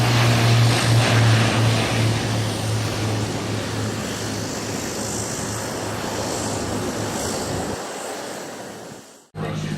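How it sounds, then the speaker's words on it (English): A propeller transport plane arriving with aid supplies after a hurricane on Tortola and landing, a loud steady droning roar with a low tonal hum that fades toward the end before a sharp bump; no talking. "the plane that we've been waiting for all day has just arrived, it's just landed."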